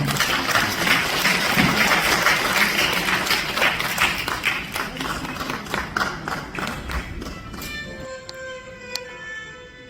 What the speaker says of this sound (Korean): 큰 박수 주십시